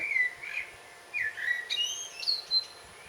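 Clear, high bird whistles and chirps come in short, varied phrases against a quiet background, fairly close and with no other sounds.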